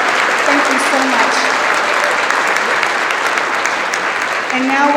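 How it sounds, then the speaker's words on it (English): A breakfast event audience breaks into loud, sustained applause, dense clapping filling the room for the whole stretch, with faint voices mixed underneath. "can we get a big round of applause for these two right here?"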